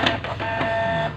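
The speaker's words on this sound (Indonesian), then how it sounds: "saya lagi ngeprint, jadi suaranya ada suara printer" A Canon printer printing at close range, a steady mechanical whir with rhythmic clicks and feed sounds running through the whole short stretch.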